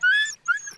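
A husky sled dog puppy whimpering up close, two high, thin whining cries, the first longer and the second shorter after a brief pause.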